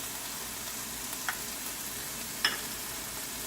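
Capsicum and onions sautéing in a pan for Indo-Chinese chilli paneer, a steady hissing sizzle throughout with a couple of faint stirring scrapes, no voices.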